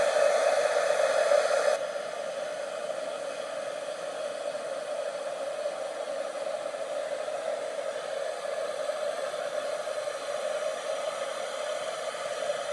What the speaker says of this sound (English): bring out my heat gun